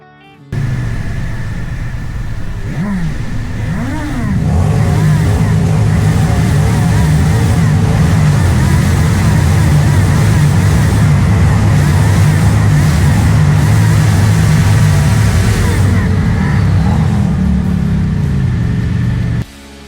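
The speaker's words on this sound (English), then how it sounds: "drove through the Beechcraft Tunnel, where he loved to rev his engine." Motorcycle engines revving as a memorial ride passes through the Beechcraft Tunnel, a loud sustained roar with rising and falling revs, reverberant and continuous after a brief quieter start.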